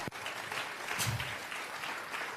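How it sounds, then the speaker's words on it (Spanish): A church congregation claps together during a Spanish-language worship service, a dense, sustained burst of applause filling the space without pause from start to finish. "Vamos a regalarle ofrenda de palmas al Dios de la gloria"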